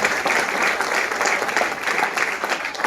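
A live audience claps steadily, a thick, continuous roar of many hands at an even level, filling the room without a break and with no clear speech over it.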